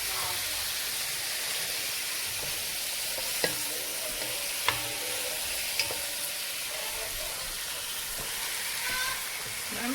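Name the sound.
stirring fresh tomatoes and vegetables frying in a pan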